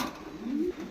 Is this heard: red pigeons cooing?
yes